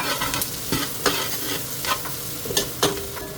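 Onions with minced garlic sauté in a pot for beef caldereta. A close, constant sizzle is punctuated by several sharp spoon scrapes and clanks against the pot. No one speaks.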